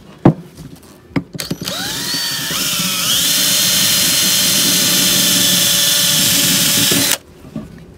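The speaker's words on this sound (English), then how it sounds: "I also have an attachment for a drill" A drill fitted with a wire brush attachment cleans a screw jack. After a few knocks of setup it spins up into a loud, steady, high whine that runs for about five seconds and then stops abruptly.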